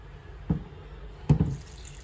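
Water is poured from a tap into a pot of vegetables and sambar powder for kootu, two short splashing pours about a second apart, close and clear over a quiet kitchen background.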